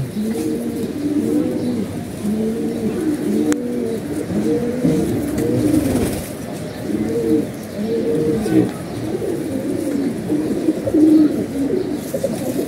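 Small pigeons coo close by in a continuous, rhythmic chorus of overlapping throaty calls, with faint background hum and no talking.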